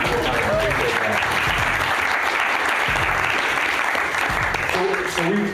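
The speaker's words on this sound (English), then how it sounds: "Maybe just do a quick round of applause to break the ice" Dense, steady applause from a live podcast audience at a WeWork event fills the room at full volume throughout, with voices faintly audible beneath the clapping.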